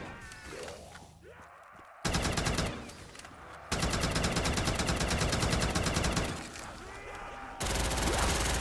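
Semi-automatic weapon fire in Call of Duty Zombies rattles in long, loud bursts of rapid shots, separated by brief quieter stretches of game noise.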